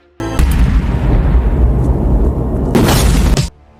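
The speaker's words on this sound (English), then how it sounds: "Moments later, a massive explosion destroys Joe's location." A massive, sustained explosion roars with deep rumbling, swelling into a brighter blast near the end before cutting off abruptly.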